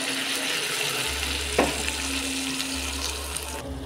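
Ghetkul (kharkol) paste sautés in a pan for a Bengali village recipe, a loud, even frying crackle that briefly splashes and hisses as a little water is poured in, with no talk.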